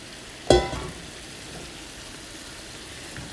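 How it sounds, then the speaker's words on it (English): Butter sizzles in a pan as it is stirred, a sharp loud burst of frying hiss at the start that quickly fades into a softer, steady low sizzle. "I'm just going to mix it up, letting all this butter"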